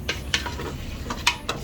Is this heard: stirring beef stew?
yes